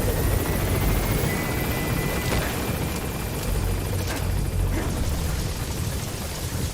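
Helicopter in the video game Metal Gear Solid 5, a steady loud rotor and engine roar filling the whole stretch with no pauses, heard alone with no talk over it.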